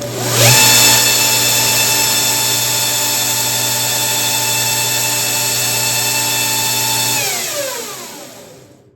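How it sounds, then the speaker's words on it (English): Homemade 2x72 belt sander kicks on with a rising whine, then runs at a loud, steady high-pitched motor and belt drone for several seconds before switching off and spinning down. "in order for me to do that, to start the belt, sometimes I gotta give the belt a little kick. So it should start up."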